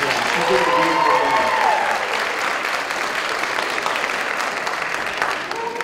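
Audience applause at a 2017 candidate forum, a sustained crowd clapping that starts loud and gradually thins, with voices mixed into the sound.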